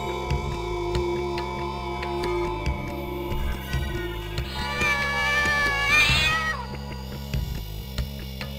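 Cat meowing indoors over a low steady hum, with a prolonged, rising and falling drawn-out meow standing out in the middle of the clip; nobody speaks.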